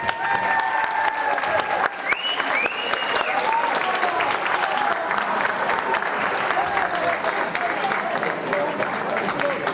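Sustained applause from a large audience at a high school graduation ceremony in a hall, steady dense clapping throughout with crowd murmur mixed in.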